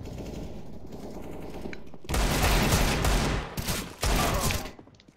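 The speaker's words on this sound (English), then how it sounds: "I couldn't hear anything because of all the gunfire." Rapid automatic gunfire in a first-person shooter video game, loud dense bursts that stop and restart before cutting off.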